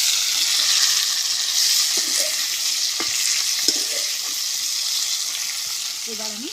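Cauliflower frying in a pan until browned for a katla fish curry: a steady, close sizzle runs throughout, with a few soft stirring scrapes and a faint voice near the end.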